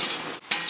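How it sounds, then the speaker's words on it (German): Water splashed onto a hot SANTOS Suomi plate grill during cleaning gives a sharp, broadband sizzling hiss that dips briefly and then flares up again, close and fairly loud. "Und dann gebe ich einfach ein bisschen Wasser. Man sieht, es kocht"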